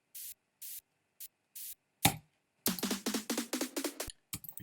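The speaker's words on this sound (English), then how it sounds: "The white noise following the rhythm." Short bursts of white noise made with default plugins pulse in a rhythmic pattern, followed by a noisy impact hit and a rapid run of crisp, percussive noise hits.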